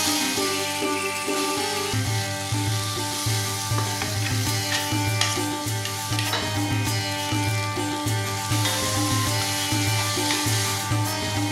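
Shallots sauté in a pan for capsicum chutney, with a constant close sizzle broken by repeated scraping stirs of a spoon.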